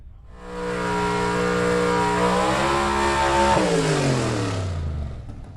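A 1962 Chevy II gasser drag car launches and accelerates hard, its loud engine roaring up through the gears with a clear shift and rising pitch before fading slightly as it pulls away.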